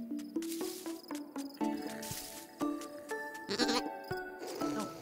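Sheep bleating in the video game Carto, several wavering, nasal bleats in quick succession over gentle tonal game music, fairly close and clear.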